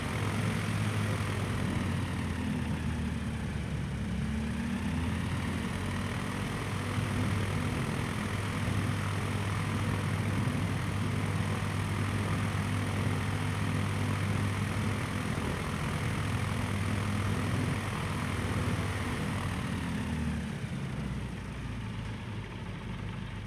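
An airplane in a flight simulator game taxis after landing, its engine idling in a steady low drone that holds evenly for the whole stretch before easing slightly near the end, with no voices.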